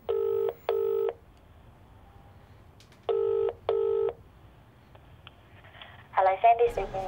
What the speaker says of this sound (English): I'm finally ready to make that phone call